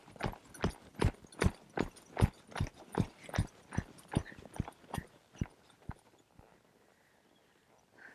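A horse steps over logs laid on the ground, its hooves landing in a steady clip-clop of about fifteen clear, fairly close strikes that grow fainter and stop near the end.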